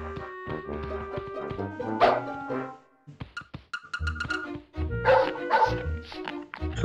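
A dog in the PS1 video game Bugs Bunny: Lost in Time gives repeated sharp yapping barks in clustered bursts over tonal game music, with a brief pause between volleys.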